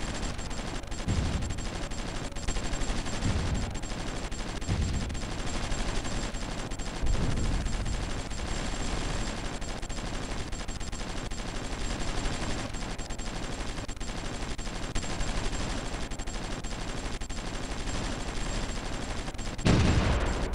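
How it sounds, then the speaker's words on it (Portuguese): Artillery and gunfire rumble through a battle in the strategy game Supreme Ruler Ultimate, dense and continuous, with a few heavier booms standing out in a loud, unbroken barrage. "Bate artilharia."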